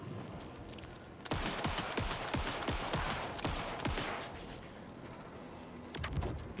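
Rapid gunfire from shooting at an enemy in the Alan Wake 2 video game, a fast burst of repeated shots under dense background noise, then a pause and a few more shots near the end.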